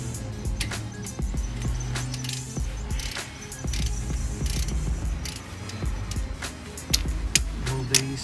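Ratchet wrench loosening the front brake caliper bolts on an Acura TL during a brake pad and rotor replacement: rapid, close metallic clicking and ticking with occasional clanks of the tool, and no voices.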